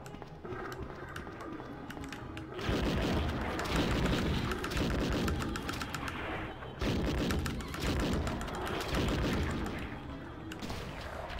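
Grenade launcher explosions in Resident Evil 2 come as dense, rumbling blasts and crackling bursts in long sustained stretches, loud and continuous with brief dips between them.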